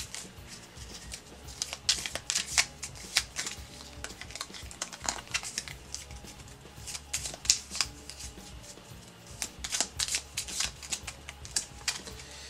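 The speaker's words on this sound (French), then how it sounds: "Je vais mélanger ces cartes. Voilà, on va bien mélanger." A deck of cards for The Texas Chainsaw Massacre Slaughterhouse board game is shuffled close up, with repeated crisp riffling bursts and light card slaps in an uneven rhythm, with no talking over them.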